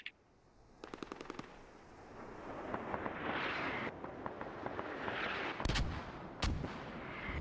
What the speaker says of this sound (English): 81 millimeter mortars coming in